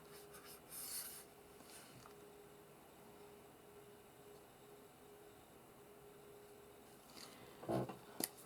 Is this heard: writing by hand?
yes